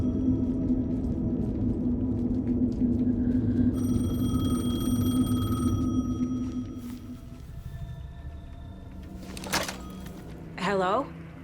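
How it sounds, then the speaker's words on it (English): A payphone rings in the video game Alan Wake 2, with a tonal ringing burst that rises over a dense ambient bed and a brief sweeping electronic warble near the end. "The payphone was ringing."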